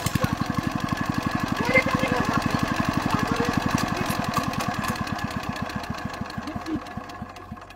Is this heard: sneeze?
no